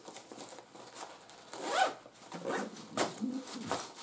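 A zipper runs on the inside pocket of a Kuiu backpack's flat side pocket, giving a few quick, close rasping pulls.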